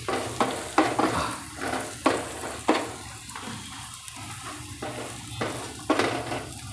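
Spices and salt with roasted cumin powder sizzle in a hot pan for a paneer corn curry while a spoon scrapes and stirs in repeated strokes, each stroke making a brief louder scrape over the frying.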